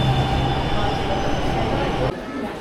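A New Delhi metro train rumbles through the station with squealing wheels and a steady mechanical roar that cuts off abruptly near the end.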